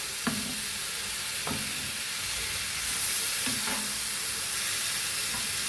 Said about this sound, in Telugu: టమాటాలు వేసాను. ఈ టమాటాలు కూడా బాగా వేగి మొత్తం బాగా మగ్గాలండి.